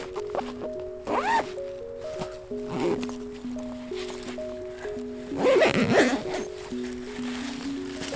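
Zipping up an Inateck backpack outdoors in the cold, a couple of short rasping zipper pulls over a steady background of drifting tones, with the loudest scraping burst near the end.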